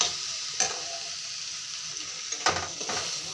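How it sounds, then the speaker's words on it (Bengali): Ground seed paste and spices fry with lai shak greens in a pan as a spoon stirs them. The sizzling is continuous and close, and a few distinct scraping strokes break through it. "এখন ভালো করে নাড়াচাড়া করে নেব"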